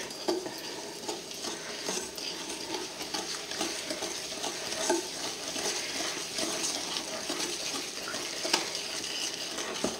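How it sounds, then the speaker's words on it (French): Sugar is stirred gently in a bowl while making tiramisu, giving a steady, soft scraping and swishing texture that continues close by with no speech over it. "On va remuer délicatement."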